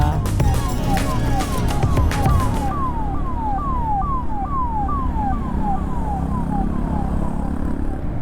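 A loud, nearby siren wails in rapid repeating sweeps over rumbling traffic, with a burst of clattering noise at the start.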